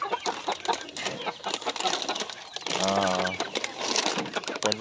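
Two mother hens clucking among their chicks, a steady busy mix of clucks and soft peeps with a clearer run of calls midway, close and continuous.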